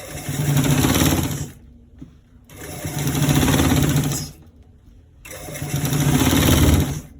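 A sewing machine stitches along a collar roll in three long, loud bursts of steady motor whir, separated by short pauses.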